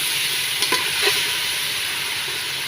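Ginger-garlic paste fries in a pan, giving a steady close sizzle with a few soft scrapes of stirring, and no talking.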